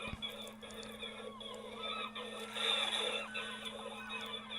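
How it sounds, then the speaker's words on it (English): Many seagulls call and squabble in the distance at a harbour in Montrose, Scotland, being fed, over a steady low mechanical hum, their cries swelling and fading throughout. "It was a bit noisy because somebody had been feeding the seagulls behind me."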